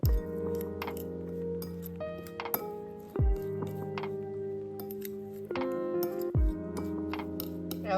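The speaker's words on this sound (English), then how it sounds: "Now we just mix." A fork clinks and scrapes against a bowl while mixing pumpkin pecan bar crust, with sharp metallic taps recurring every couple of seconds over a faint tonal hum.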